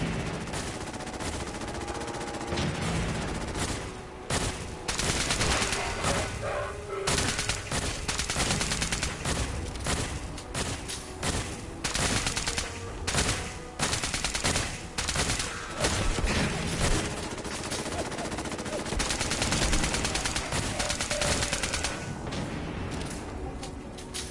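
A laser weapon fires in a video game as dense, rapid bursts of crackling shots repeat in quick volleys across the whole stretch, loud and close, with brief gaps between strings.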